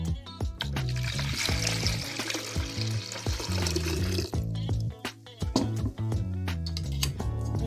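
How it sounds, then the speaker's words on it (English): Water poured into a pitcher holding lemon juice and sugar for homemade lemonade, a continuous splashing, gurgling stream with clinks, close and fairly loud, with some background music. "Then I'm going to add in the 2 cups of water"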